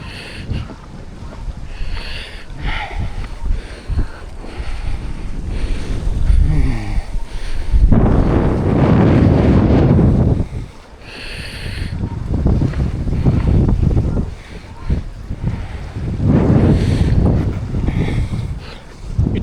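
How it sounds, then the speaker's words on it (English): Strong wind on a bay buffets the microphone in heavy, surging gusts, roaring loudly for several seconds at a time and then easing off, with water and sailing sounds beneath and no voices. "It's a really windy day"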